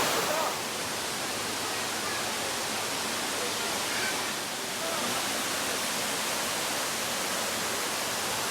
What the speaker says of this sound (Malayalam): കുളപ്പുള്ളിയിലുള്ള ഒരു ഹിഡൻ വാട്ടർഫാൾസ് ആണ് ഇത് സീസണൽ വാട്ടർഫാൾസ് ആണ്